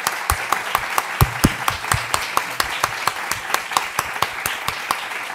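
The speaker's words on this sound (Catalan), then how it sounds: "Deixeu-me només demanar un aplaudiment de nou a les persones que ens han a la taula" Audience applause at a conference on local administration performance evaluation: a steady run of sharp individual claps, fairly close and moderately loud, with no talking over it.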